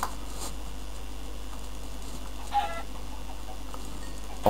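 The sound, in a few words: chicken clucking in Minecraft video game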